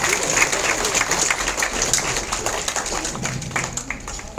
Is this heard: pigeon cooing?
no